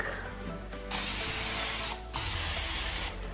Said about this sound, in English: I am just going to spray the pan real quick